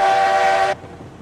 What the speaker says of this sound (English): I do find this one to have the coolest whistle in the game